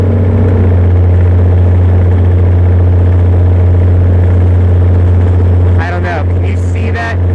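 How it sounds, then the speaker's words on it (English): A Perkins diesel generator engine runs steadily under heavy electrical load, a loud, close, continuous low drone with a rough shudder, and brief voices come in near the end. "Can you see that shudder that the engine has?"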